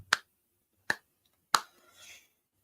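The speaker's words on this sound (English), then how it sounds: "Slow clap." Three slow, deliberate hand claps spaced nearly a second apart, crisp and close in an otherwise quiet room, with a faint rustle after the last one.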